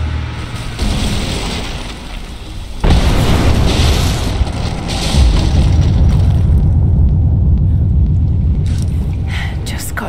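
In the game Rise of the Tomb Raider, a Greek fire vessel blows apart the supports of an unstable statue: a sudden heavy boom bursts in a few seconds in, followed by a long, loud rumbling roar of fire and debris.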